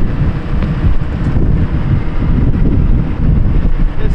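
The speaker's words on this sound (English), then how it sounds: "This stupid wind is driving me insane." Outdoor wind buffets a microphone in loud, continuous low rumbling gusts that swell and fade without a break, with no voices heard.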